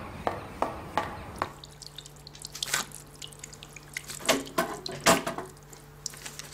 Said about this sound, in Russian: Кран так и не починил.